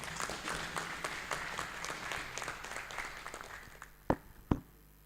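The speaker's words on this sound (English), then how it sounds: "Can you please clap for Royal Exchange?" An audience at a Royal Exchange Insurance special day at the Lagos International Trade Fair claps steadily for about four seconds, a dense, moderately loud patter of many hands, ending with two sharp isolated claps.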